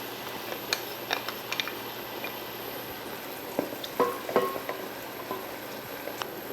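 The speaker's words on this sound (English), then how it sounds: "we'll go ahead and add our shallots." Shallots drop into hot ghee and start frying, giving a soft, steady sizzle with scattered pops and crackles, fairly quiet and close, with no talking.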